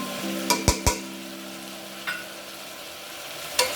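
Spices being stirred into vangi bath in a pan, with a few sharp scraping clacks of a spoon against the pan near the start and a couple more spaced out later, under a low steady hum.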